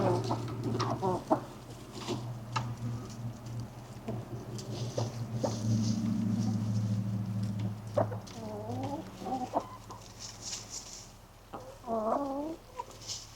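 Several hens cluck and murmur nearby, with occasional rising squawks and soft scratching sounds in the background.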